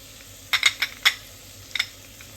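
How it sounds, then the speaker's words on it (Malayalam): A spoon stirring and scraping a pan where chili powder goes into frying green chili, ginger and garlic, a few quick clinks and scrapes over a soft sizzle, with no talk. "ഇനി നമുക്ക് മറ്റുള്ള മസാലകളൊക്കെ ഇടാം മുളക് പൊടി"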